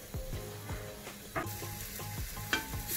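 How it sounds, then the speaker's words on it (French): Shallot and garlic sautéing in sunflower oil in a cooking pot, a continuous close sizzle broken by rhythmic scraping strokes of a stirring utensil, with no speech. "Là, on vient de revenir l'échalote et l'ail."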